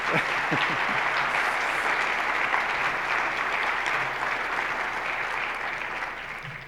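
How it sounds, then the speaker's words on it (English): An audience gives a round of applause at a speaking event, a loud, dense wash of clapping that holds steady for several seconds and then gradually tapers off, with no voices over it. "Give him a round of applause."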